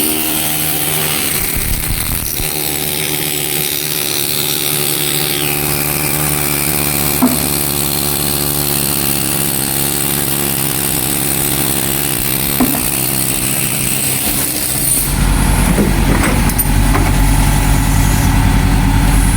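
A fully automatic 22mm cartridge press machine runs with a steady, loud mechanical hum and drone, a few faint clicks along the way and a heavier, louder stretch near the end.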